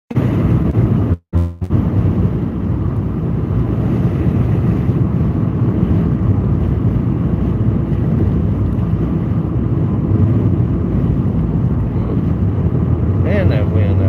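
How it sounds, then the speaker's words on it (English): Strong wind outdoors in West Central Texas buffeting the microphone, a loud continuous rushing roar lasting the whole time, broken by a brief dropout early on, with a voice speaking over it. "Man, that wind out here."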